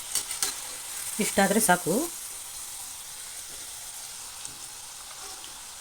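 Cauliflower florets for gobi pepper dry frying in a pan give a soft, steady sizzle throughout, with a short spoken phrase near the start.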